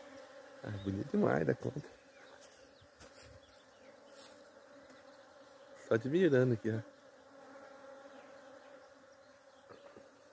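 Bees buzz around nectar-rich native plants, including pitanga, as a steady close drone that swells loudly twice as insects pass near. Someone speaks softly over the buzzing between the passes.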